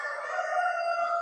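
A rooster crows in a warm indoor hall at a poultry show, one sustained, steady call held close and clear with no talk over it.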